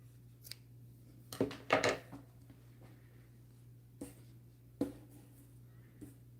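Scissors snip the yarn tail of a crochet piece, a few short, soft cuts and rustles close by against a low steady hum.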